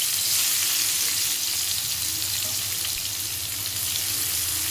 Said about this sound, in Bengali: এই তেলে আমি পেঁয়াজগুলোকে দিয়ে দেবো।